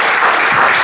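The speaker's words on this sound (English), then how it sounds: "I think they all deserve a round of applause." Brief burst of dense audience applause at an annual general meeting, loud and steady clapping from a crowd lasting under a second.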